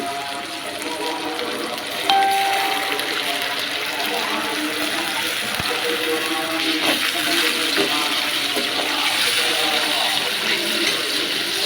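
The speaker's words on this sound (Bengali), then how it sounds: "দিয়ে দিব সামান্য পানি" A little water goes into a pan of ground cumin and garlic paste while Loitta fish bhuna is being cooked, making a continuous rushing, sizzling wash that stays fairly loud and even for around twelve seconds.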